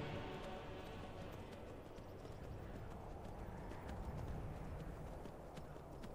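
Horse hooves clop steadily down stone steps in a video game, a continuous uneven patter of hoofbeats at moderate distance over faint background ambience.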